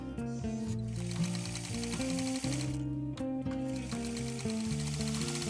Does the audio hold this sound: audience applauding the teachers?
no